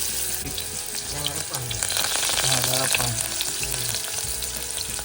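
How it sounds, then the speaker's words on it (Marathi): Finely chopped onion drops into hot oil and fries with a loud, steady sizzle, while a tonal voice or background sound rises and falls over it. "तेल जरा तापू द्यायचं छान तापलेलं आहे आणि आपण सगळ्यात आधी घालतोय बारीक चिरलेला हा कांदा"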